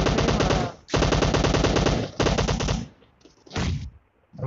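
Dense automatic gunfire in a battle royale video game match, long rapid bursts with brief pauses and a final short burst, loud and close, with no talking.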